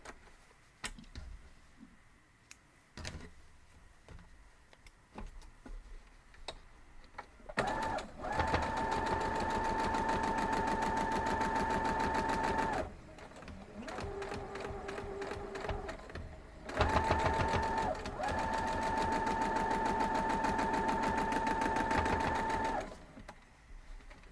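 A sewing machine stitches a star quilt block in two long steady runs of fast, even whirring, separated by a brief pause with a quieter, lower motor hum, and light handling clicks before the first run.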